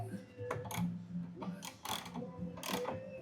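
A motorcycle support lift under a Harley Dyna being loosened, giving a run of irregular metallic ticks, clicks and ratcheting clunks at close range, with a low steady hum underneath.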